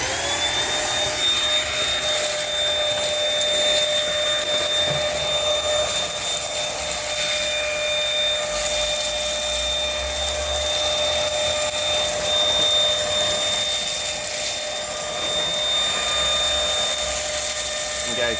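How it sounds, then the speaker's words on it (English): A Dirt Devil Simpli Stick vacuum cleaner runs nonstop on an outdoor deck, a steady loud motor whine with a thin high whistle over airy suction rush, close by throughout. "I will vacuum up some more"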